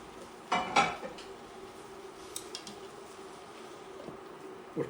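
A metal lid clatters onto a pot of simmering shrimp pasta, a brief, close rattle of two or three clinks, then quiet kitchen background with faint scattered ticks.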